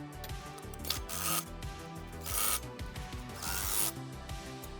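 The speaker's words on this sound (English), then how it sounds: "we're going to snug down the cross tube bolts" A ratchet tightens the cross tube bolts of a trailer hitch on a 2026 Subaru Trailseeker, with rapid continuous clicking through several strokes and louder swelling bursts, close and distinct, no talking.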